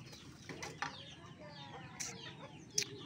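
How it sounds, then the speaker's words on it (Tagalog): Young rice field bird caught behind a house, giving soft chicken-like clucks and a few sharp short calls, close up and fairly faint against quiet background. "Akalain mong manok to. Pero ano to, ibong palayan."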